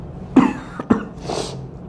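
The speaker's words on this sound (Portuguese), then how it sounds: "Desculpa também pelas eventuais tosses e fungadas." A person getting over the flu coughs twice up close, sharp and abrupt, then gives a softer breathy sniff or throat sound, with no speech.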